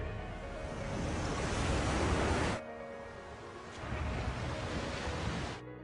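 Tsunami waves make a loud, continuous roaring surge of broadband rushing water, easing briefly before a second swell of roar builds and then cuts off.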